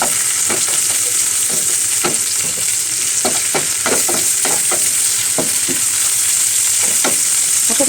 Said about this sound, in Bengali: ভাজতে থাকলাম।